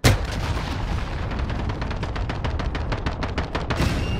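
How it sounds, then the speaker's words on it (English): Rapid gunfire and heavy blasts during a cruise missile strike in the Call of Duty: Modern Warfare video game, a dense run of sharp reports hammering steadily for several seconds at close range. "Enemy cruise missile incoming."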